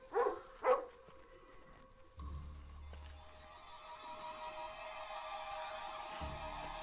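A dog barks twice in quick succession in the video game Lost: Via Domus, the sharp yaps sitting over a steady low game ambience with rumbling background tones and no speech.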